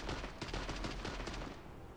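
Rapid automatic gunfire in a video game, a dense sustained burst of shots with a steady rattling rhythm, loud and close, trailing off into a fading tail near the end.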